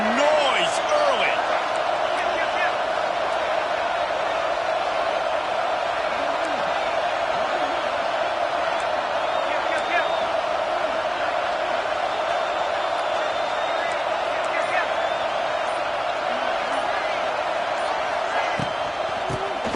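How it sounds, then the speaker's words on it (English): Crowd noise in a football video game: a loud, continuous stadium roar runs steadily throughout, with play-by-play commentary over it. "This crowd bringing the energy and noise early."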